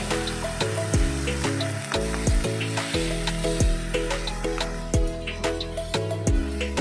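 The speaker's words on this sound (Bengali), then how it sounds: "বেশ কিছুক্ষণ কষিয়ে নিই, গ্যাসটা সিম করে, তাহলে মশলাটা ভালো কষবে" Ground spice paste for a Bengali gochi fish curry (kosha) frying on a low flame in a pan, giving a steady close sizzle beneath continuous tonal background music.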